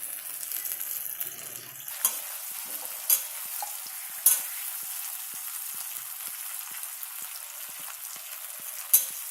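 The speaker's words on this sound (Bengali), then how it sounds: "এখানে আমার পেঁয়াজ টমেটোর সাথে ভাজা হয়ে গেছে" Onion and tomato frying and being stirred in a pan as the base for a fish curry: a steady close sizzle with a few sharp utensil clinks scraping against the pan, no voices.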